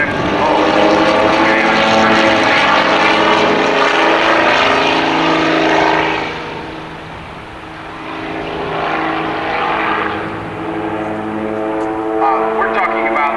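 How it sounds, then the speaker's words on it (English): A Helio Courier light propeller airplane flying low and slow in a maneuverability demonstration, its engine drone loud and continuous, swelling and easing as the aircraft passes, with the pitch shifting as power changes. "Bob's showing us some of the maneuverability of the Helio"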